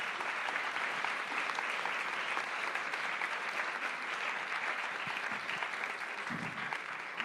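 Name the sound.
audience applause at a conference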